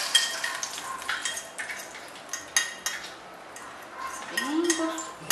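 An omelette sizzles and crackles in a frying pan, with scattered clinks of utensils against cookware up close.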